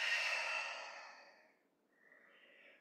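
A long, soft exhale during a wide-legged forward fold in a vinyasa yoga practice, close and airy, fading out halfway through and followed by faint quiet breathing.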